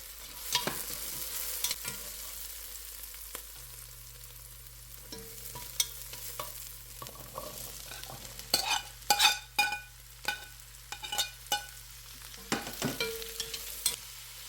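Vegetables for soup sizzle softly in a pot while a utensil stirs and scrapes, with irregular clanks and bursts of frying, no talking.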